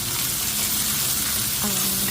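Steady sizzling and crackling of onion, garlic and dried chillies frying in hot oil, continuous and close, with no voices.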